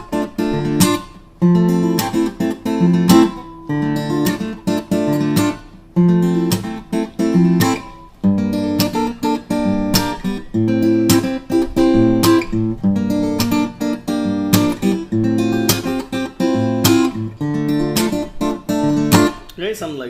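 Fingerstyle jazz fusion chord progression on guitar, four chords played percussively with plucked strings and slapped hits, looping continuously in a busy, rhythmic pattern, close and full.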